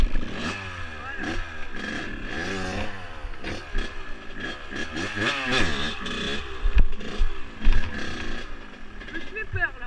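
A Kawasaki KX 85 dirt bike engine revs hard in bursts as the rider pulls wheelies, the pitch rising and falling repeatedly with clattering and scraping, loud and close, with a voice speaking over parts of it.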